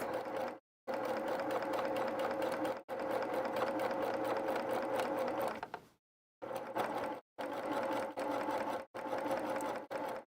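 Sewing machine running in steady bursts while stitching a quilted pillow cover, a dense mechanical whir that stops briefly for pivots, then resumes; close and alone with no talk.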